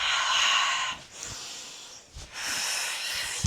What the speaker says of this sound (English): Maybe it's in the inhale on the throat up, and exhale on the throat down.